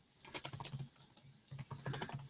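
Someone types a username on a computer keyboard in two quick runs of light, close key clicks separated by a short pause, soft and alone without speech.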